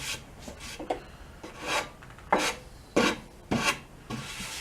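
Repeated rasping strokes of sandpaper glued to a wooden block on wood for a mini lathe base, several distinct scrubbing passes at an uneven rhythm, close and fairly clear with quiet gaps between.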